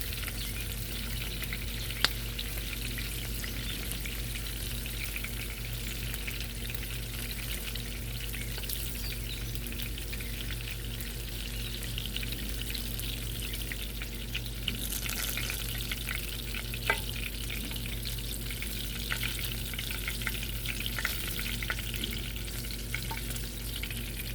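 Garlic shrimp fry in a pan for Hawaiian garlic shrimp, a steady close sizzle with a low hum underneath, broken by occasional small clicks and scrapes as the pan is stirred.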